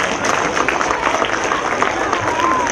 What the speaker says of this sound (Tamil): அவருக்கு பெரிய பலத்த கைத்தட்டல்